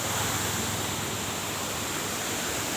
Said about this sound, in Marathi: हे पाणी पुढे वाहून जात आहे